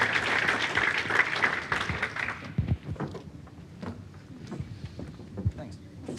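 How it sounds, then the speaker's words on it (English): Audience applause for a panel at a leaders of industry lunch, a burst of clapping in the first couple of seconds that quickly thins into scattered claps, with people talking and thanking the panel over it. "Can we just give Shay, Chris, Nick and Nathan a round of applause,"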